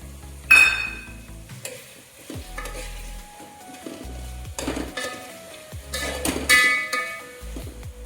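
Bottle gourd simmering in a pot of sambar with a spoon stirring through it, giving soft bubbling, scraping and clinking against the pot in irregular bursts. The sounds are moderately close, and no one speaks.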